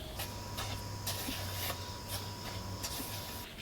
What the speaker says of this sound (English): once I start my mixer